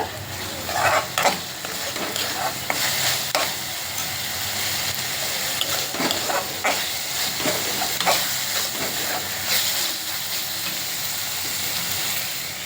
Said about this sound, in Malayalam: കുറച്ച് മുള മഞ്ഞപ്പൊടി ഇടുക നല്ലവണ്ണം വഴറ്റുക